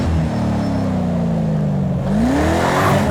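A Ford Mustang drifting in the racing game Project CARS 2: a loud, close engine drone that sags in pitch, then revs back up as the car slides.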